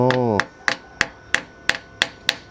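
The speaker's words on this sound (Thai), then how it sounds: "มีการใช้ค้อนตอกด้วย" A hammer pounds metal during welding, striking in a steady series of about seven sharp, ringing clanks after a short humming tone at the start.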